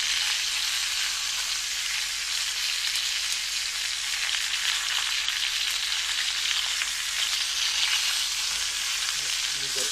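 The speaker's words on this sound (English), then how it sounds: "I'm going to keep cooking up 2 more flounder" Flounder fillets fry in a hot pan, giving a steady, close sizzle of hissing and crackling oil that continues without pause and with no voices over it.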